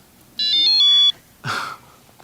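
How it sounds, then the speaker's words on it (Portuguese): A phone gives a short electronic beep tune of a few quick stepped tones, followed by a brief softer noisy burst, clear and close in an otherwise quiet room. "O bip do meu telefone."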